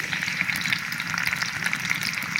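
Onion, tomato, ginger and green chillies sautéing in coconut oil: a loud, steady sizzle with crackling pops and light stirring, close up and continuous, no talking.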